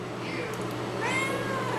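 A pet cat meows indoors in a couple of short, rising calls, close by and fairly faint over a steady low room hum.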